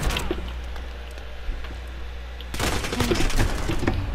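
Rapid gunfire bursts from a Modern Warfare video game, a steady low rumble that erupts into dense, loud automatic fire halfway through and keeps going to the end.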